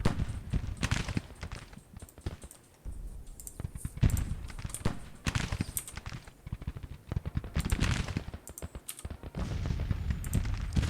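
Dense scattered musket-style gunfire from soldiers in a First Battle of Manassas video game battle, rapid irregular shots crackling over a constant battlefield din, fairly near and continuous.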